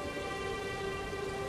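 Constant rain hiss in Elden Ring, steady and moderate, layered with sustained tonal ambient drones and no voices.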